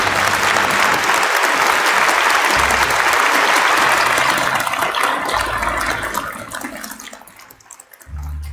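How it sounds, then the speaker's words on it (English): Sustained audience applause fills a rally hall at a Rally of Hope think tank event, loud and continuous before thinning out toward the end. "A warm round of applause."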